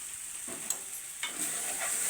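Chicken curry with masala being stirred in an oily pan, quiet sizzling with a couple of soft scraping stir strokes, close up.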